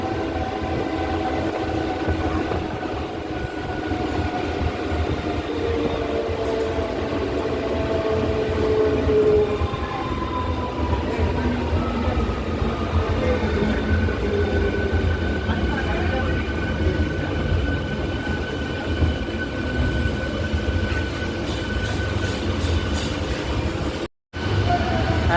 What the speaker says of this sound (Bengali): একদম নির্ধারিত সময়ে আমাদের ট্রেন উলুবেড়িয়া রেলওয়ে স্টেশন থেকে ছেড়ে দিল